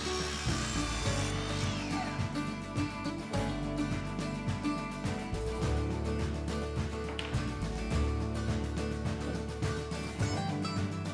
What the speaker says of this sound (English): I'll have to cut slight angles to get this.